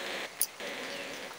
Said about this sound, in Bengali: বৃষ্টি চলে এসেছে